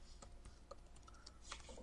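A short burst of quiet keystrokes entering a Linux command on a computer keyboard, a few scattered clicks over a steady background hum, with no voices.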